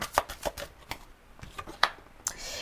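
Tarot cards are handled and a card is drawn, giving a few sharp, close flicks and snaps spaced across a couple of seconds, with no talking.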